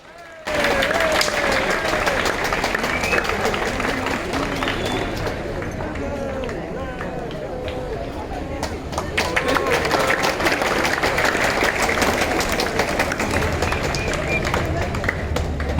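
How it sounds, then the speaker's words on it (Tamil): Students at a government school in Alangulam clap in congratulation after a brother and sister perform silambam, producing a long, continuous patter of many hands with crowd chatter and voices mixed through it. "மாணவ மாணவிகள் கைத்தட்டி வாழ்த்துக்களை தெரிவித்தனர்"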